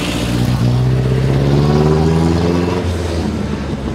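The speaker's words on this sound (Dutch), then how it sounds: "die hopen allemaal dat die auto's een keer heel hard op de gas duwen" Classic Mille Miglia race car engine revving hard in an Italian village, a loud close roar rising in pitch for about two seconds, then falling away.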